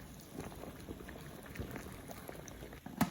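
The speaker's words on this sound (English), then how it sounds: "So I start off by boiling the filter bag." Steady bubbling and gurgling of water at a rolling boil, close by, boiling a filter bag for makgeolli brewing, with a brief clink near the end.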